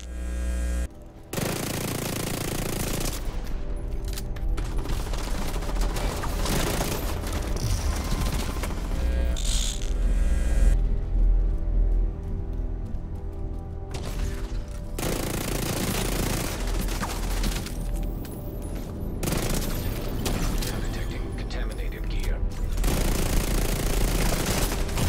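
Sustained gunfire in The Division 2, dense overlapping bursts and a low droning hum filling the scene loudly, with a brief lull midway before the shooting resumes.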